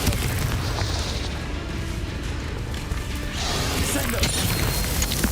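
Blasting with the Confringo fire spell in Hogwarts Legacy sets off a dense, booming burst, with crashing and mechanical clatter rolling continuously for several seconds, loud and close, followed by a fresh bright surge near the end.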